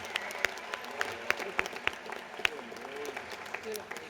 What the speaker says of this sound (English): Can we please get a round of applause for our Masters in Business Administration and our Masters in Business